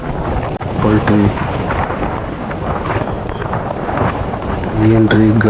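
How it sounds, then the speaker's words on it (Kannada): Strong gusting wind roars continuously across the microphone on Gopalaswamy hill near Gundlupet, buffeting loudly throughout, with people talking briefly over it at the start and end. "ಏನ್ರಿ ಗಾಳಿ ಇದು, ಈ ಗಾಳಿನ ತಡೆಯಕ್ಕಾಗತ್ತಾ?"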